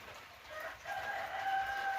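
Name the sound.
rooster crowing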